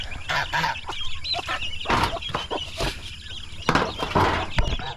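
Turkey poults and chicks on a farm, a busy flock giving repeated honking, clucking calls and short cries, several birds overlapping close by with no talk.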